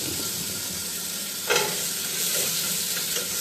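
Mini and cherry tomatoes sizzle and fry in a hot pan, with a steady crackling hiss, a brief louder scrape or stir partway through, and no talking.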